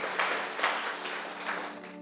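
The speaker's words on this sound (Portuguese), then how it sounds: "Você pode aplaudir ao Senhor por isso?" Congregation at a church service applauds in a steady, dense wash of clapping that runs unbroken through the whole moment, heard at a moderate distance with no talk over it.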